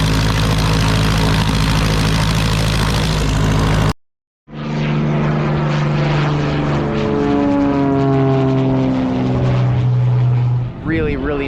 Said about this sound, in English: planes just taking off left and right